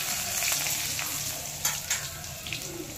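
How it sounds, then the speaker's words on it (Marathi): Curry leaves and coriander fry in hot oil with garlic, a close, steady sizzle and crackle with brief stirring scrapes throughout, no voices. "आता त्याच्यामध्ये कढीपत्ता टाकायचा, थोडीशी कोथिंबीर,"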